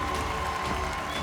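Dense, steady audience applause at a televised reality-show finale, filling the room in a continuous wash of clapping with no individual claps standing out.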